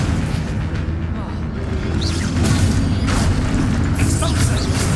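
A spell rotates a stone mechanism in a Harry Potter video game, giving a steady, dense rumble of grinding magic and heavy rolling effects that swell in the second half and carry through the whole stretch.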